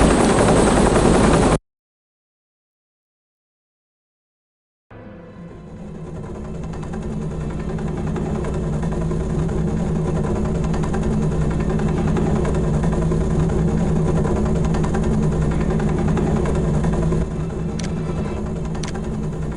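A helicopter in the shooter game Soldier of Fortune 2 whirs with a steady droning rotor and engine hum that rises after a short burst and a silent gap, then holds loud and constant.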